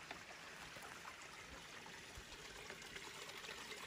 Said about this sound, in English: Ooh, I hear water ahead.